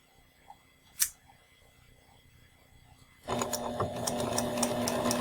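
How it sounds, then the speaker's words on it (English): A sewing machine runs a straight line of long stitches through fabric, starting after a few seconds of quiet room sound and then whirring steadily and closely with a fast rhythmic clatter. "The next thing that we want to do is large stitches."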